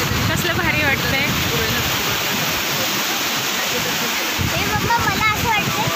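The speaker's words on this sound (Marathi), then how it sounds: "इकडे बघू शकता पाणी कसलं चाललंय" Water rushing over Ransai dam near Uran, a loud continuous roar of churning flow close by that fills the whole stretch without a break.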